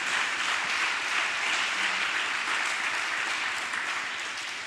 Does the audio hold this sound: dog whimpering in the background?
no